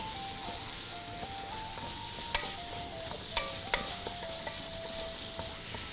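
Chopped parsley is stirred into a yogurt sauce with meat in a pot, producing a soft continuous bubbling simmer with a few light spoon clicks against the pot.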